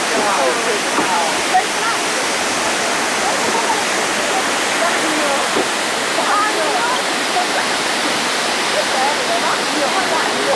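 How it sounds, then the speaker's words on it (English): A waterfall near a halted train in Norway pours in a steady, dense roar that fills the whole stretch without a break, loud and close. "Waterfall."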